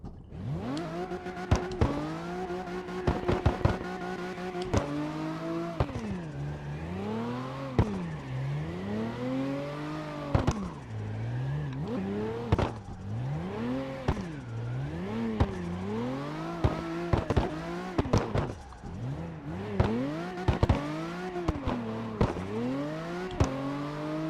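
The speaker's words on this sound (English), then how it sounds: "let's do a bit of test drive and see if our track is looking good" A car in the CarX driving game lapping a custom-built track: engine revs rise and fall repeatedly through gear changes and corners, with occasional tire squeal, loud and continuous without talk.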